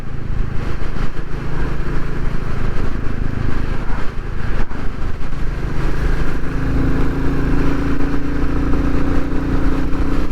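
A Royal Enfield Classic 350 motorcycle engine drones steadily while riding, with wind rush and a rising tone near the end as it picks up speed.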